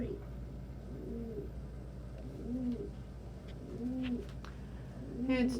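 Pet pigeons or doves coo softly and repeatedly at a steady, unhurried pace, each low rolling call a few seconds apart, faint against a quiet room hum with a few small rustles.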